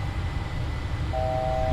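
Altitude alert chime in a Boeing 737-800 flight simulator, a steady two-tone chord entering about halfway through and holding over the engine and cockpit rumble.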